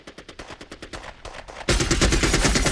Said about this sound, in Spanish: Empezaron a recibir disparos de inmediato que los forzaron a aterrizar.